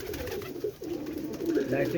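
Flying pigeons coo in repeated soft, throaty phrases from a nearby loft, under a voice talking over them.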